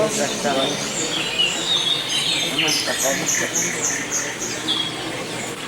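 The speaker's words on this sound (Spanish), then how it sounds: "Como unos pajaritos que están chiflando." Small birds chirp and tweet continuously in quick high twitters, several calling at once, in a forest soundscape at an art museum exhibit, with faint talking underneath.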